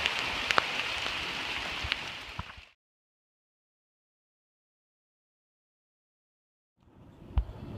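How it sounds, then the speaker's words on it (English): Heavy rain pours down at a park, a dense, steady hiss of drops with a few sharper hits, cutting out to total silence for several seconds before the downpour resumes. "It's pouring!"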